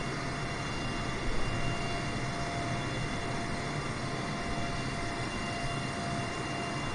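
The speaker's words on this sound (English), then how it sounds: "the 787 is quite an interesting plane" Boeing 787 jet engines in a flight simulator game, a steady, dense roar that holds unchanged throughout with no talk over it.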